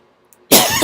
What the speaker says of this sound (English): after deservedly coughing on that one